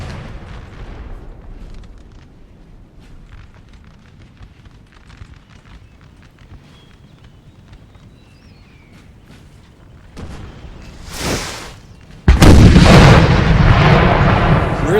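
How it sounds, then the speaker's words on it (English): Artillery fire in a Napoleon Total War multiplayer battle striking a Jaeger unit: faint distant rumbling and crackles, then a sharp burst followed by a loud sustained roaring blast of impacts. "Really nice hit there though by the artillery"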